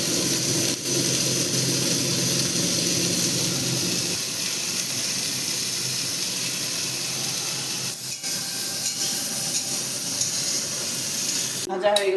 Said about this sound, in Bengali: ফুলকপিটাকে প্রথমে ভেজে নেব একটু লবণ হলুদ দিয়ে